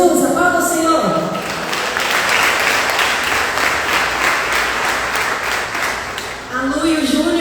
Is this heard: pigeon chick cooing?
no